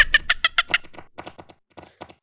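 A voice mimics a duck with a burst of rapid, nasal quacking calls, loud and close, fading into a few sparser quacks after a short pause, heard alone in a Gorilla Tag game chat.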